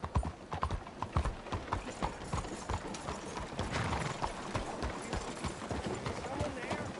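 Horse hooves clip-clop in a steady, dense rhythm close by, with a neigh-like cry and people talking over them throughout.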